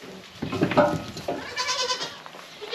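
Goats bleat loudly and close by in a barn among the herd, two or three wavering calls overlapping in a short burst.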